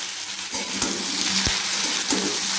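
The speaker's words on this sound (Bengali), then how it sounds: "এই ফুলকপি আলু দিয়ে ভালো করে এটা একটু ভাজা ভাজা হয়ে গেল" Cauliflower and potatoes fry in a wok, a steady bright sizzle with a few soft stirring clinks, close and without speech.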